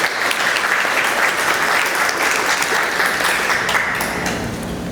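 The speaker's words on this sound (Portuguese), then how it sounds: "Palmas para Roberto" Steady applause from an audience at a Brazilian animation event, dense and even throughout, close and loud with no talk over it.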